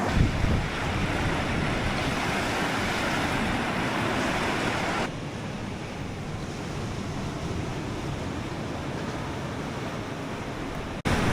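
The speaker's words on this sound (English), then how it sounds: "There's some impressive waves breaking over them." Continuous surf roars steadily as waves break over rocks on a beach, loud and close, with wind rushing across the microphone.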